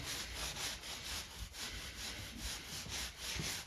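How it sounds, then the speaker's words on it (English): Quiet, repeated back-and-forth rasping of a sanding block on a damaged wooden baseboard, in an even rhythm of short strokes. "So just kind of sand it down"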